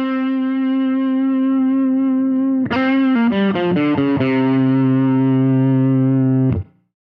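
An electric guitar through the clean channel of a Pigtronix Disnortion pedal holds a long sustained note, then plays a quick run of notes that rings on before cutting off abruptly.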